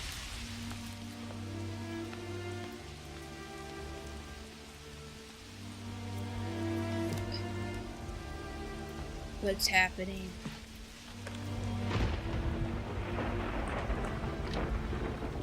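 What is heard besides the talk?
thunderstorm and rain effect in a video game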